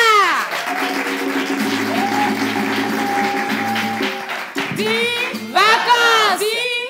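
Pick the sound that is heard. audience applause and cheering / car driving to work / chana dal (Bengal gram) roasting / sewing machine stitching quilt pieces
audience applause and cheering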